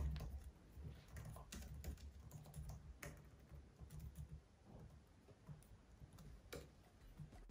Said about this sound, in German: Die Tastatur hört sich ebenfalls gut an, sie ist angenehm leise.